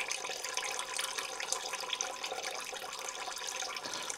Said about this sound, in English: I'm gonna pour up some samples in some glasses here so we can compare later.